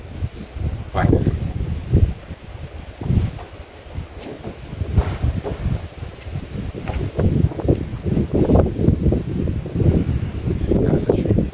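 Gusty wind buffets the microphone in loud, rumbling blasts, with a voice speaking intermittently underneath.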